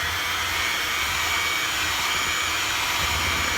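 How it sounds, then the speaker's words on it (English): A steady, close electric mixer whir runs without a break while it beats flour into cookie batter for Andes mint chocolate cookies, a dense motor drone with no talking. "I think I will use my electric mixer for this part"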